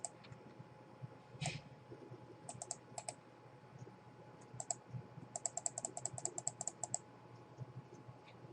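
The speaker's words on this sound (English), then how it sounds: "I'm clicking the wrong thing" Sharp computer mouse clicks and light keyboard taps at a desk, scattered at first and then coming in a quick run of close, crisp clicks alone with no talk.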